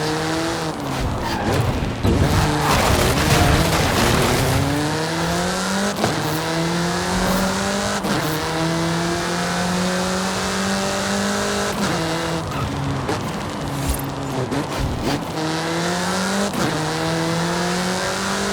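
A car in the Forza Horizon 5 video game drives at speed, its engine droning loud and steady with rising and falling pitch as it shifts gears, plus scattered tire noise through the whole stretch.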